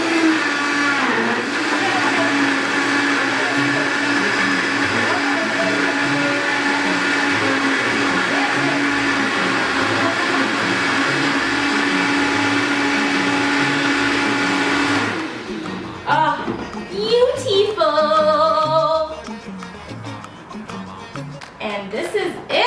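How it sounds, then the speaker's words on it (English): A kitchen blender whirs loudly and steadily for about fifteen seconds, pureeing sofrito ingredients, then cuts off abruptly, leaving a voice talking. "And then we're gonna give this a really nice blend."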